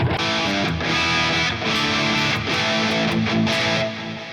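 Distorted electric guitar through a JCM800 amp model in the ToneX plug-in, chords strummed steadily and loud for about four seconds, with no voice over it.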